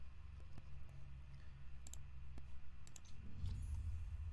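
Computer mouse clicking during play of the puzzle game The Room, a few sharp, sparse clicks over a steady low hum, fairly faint and close, with no talking.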